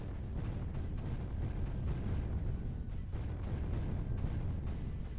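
Continuous deep rumbling blasts from the strategy game Creeper World 3, dense overlapping explosions rolling together into a loud, unbroken roar.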